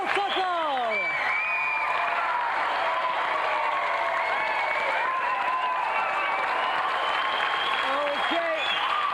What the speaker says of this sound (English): let's have another round of applause for a true Christmas champion, Paul Tucker!